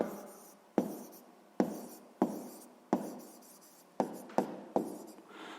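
A pen writes out a sixth-grade fraction multiplication answer with a series of close, sharp taps and short scratching strokes, about ten marks in irregular rhythm and no voices.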